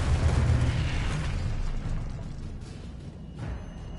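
A Confringo explosion spell in the video game Hogwarts Legacy bursts with a deep, rumbling boom that is loudest at the start and slowly decays, followed by a fainter secondary pop, with no talking.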